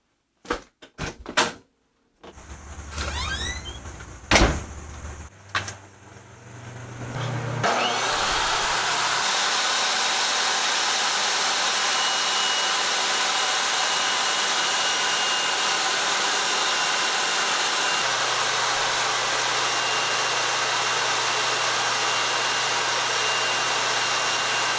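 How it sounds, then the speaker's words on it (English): A Ryobi table saw set up outdoors cuts ceiling tiles with fans running nearby. After a few opening knocks and clunks, the saw spins up and holds a loud, steady whirring roar. "I'm actually cutting ceiling tiles, not wood. And I've got a Ryobi table saw set up outside"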